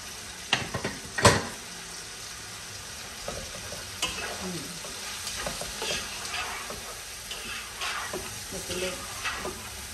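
Red crushed chillies, turmeric and salt frying in a pan of lamb chops, heard as a soft steady sizzle with scraping stir strokes and a sharp utensil clack early on, close and fairly quiet.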